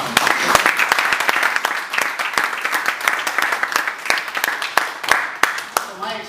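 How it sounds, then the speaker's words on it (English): An audience at a Toastmasters excellence session bursts into a round of applause, dense overlapping claps at moderate distance sustained for about six seconds, thinning slightly toward the end. "Give a round of applause."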